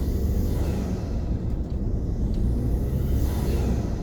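A Ford F-150 EcoBoost with its turbo inlets left open and no intakes fitted gives a loud, steady roar of engine and turbo rush, close up and continuous, with no talking.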